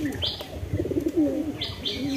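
Domestic pigeons coo softly at close range in short, repeated throaty phrases, mixed with a few faint chirps.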